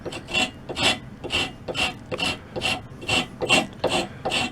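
The coarse side of a rasp rounds off the edge of a wooden table leg in steady back-and-forth strokes, about ten rhythmic scraping passes, close up and alone.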